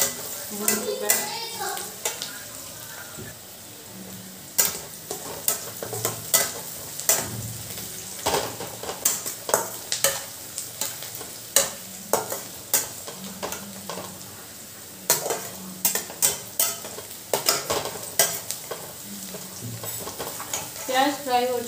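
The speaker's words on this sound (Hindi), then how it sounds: "प्याज हमारा ऑलमोस्ट फ्राई हो चुका है, भुन चुका है" Onions fry in a pan at home, a soft, steady sizzle punctuated by repeated sharp scrapes and taps of a spoon against the pan as they are stirred.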